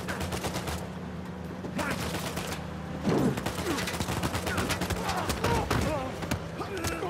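Shots fired at car tires in Uncharted 4 crackle as dense, continuous gunfire with scattered sharp impacts, heard alongside game voices and other in-game noise throughout.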